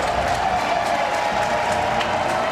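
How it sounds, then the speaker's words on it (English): A stadium crowd at a Duke versus Virginia college football game roars with dense, sustained cheering and applause, a loud unbroken wall of noise throughout. "And the crowd goes wild."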